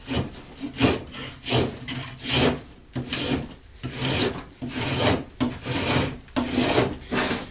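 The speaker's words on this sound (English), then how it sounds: "Get the rest of this off just by rubbing the Sureform over it a couple times." A Surform rasp scrapes fiberglass off the edge of a red oak longbow in quick, rhythmic strokes, each stroke a coarse, close grating rasp, with no talk.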